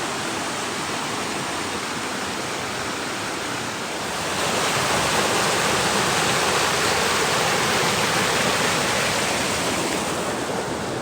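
Storm-swollen creek in the Jefferson National Forest rushing steadily nearby, a broad continuous roar that grows louder partway through, with no voices.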